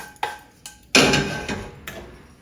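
A metal pan set down on the back burner of a gas stove, giving a few sharp clanks and knocks, one louder impact in the middle, close and alone without talk.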